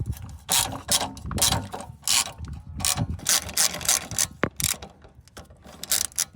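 A ratchet fitted with a 10 mm socket and extension removes a bolt on the strut of a 2008–2012 Ford Escape, giving close, quick bursts of clicking with short pauses between strokes.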